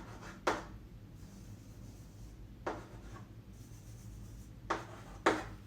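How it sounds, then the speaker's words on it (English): Chalk or marker scratches across a board in short strokes during a computer science lecture, coming in three brief clusters of scraping separated by quiet pauses, with no speech. "I would write A and in capital"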